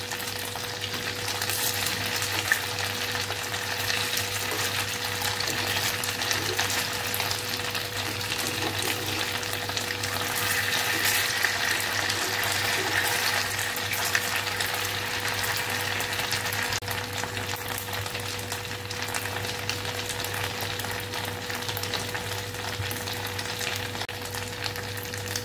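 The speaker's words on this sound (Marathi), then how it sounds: "एका साईडने 2 ते 3 मिनिटं चांगले फ्राय करून घ्यायचे आहे." Rava and raw potato vadi shallow-fry in an oiled pan, making an even, continuous sizzle close by for the whole stretch, with a faint steady hum underneath and no speech.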